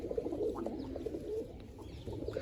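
Pigeons coo softly in a loft, a few low, murmuring calls repeating at moderate distance against quiet background noise.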